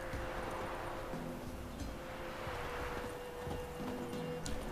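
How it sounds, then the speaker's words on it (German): Horse hooves in The Witcher 3: Wild Hunt, a steady rhythmic clip-clop of a ridden horse under soft wind and ambient game sound, moderately quiet throughout. "wir können ja mit dem Pferd reiten, ne?"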